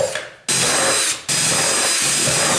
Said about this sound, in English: I use the same 3/8 inch drill bit.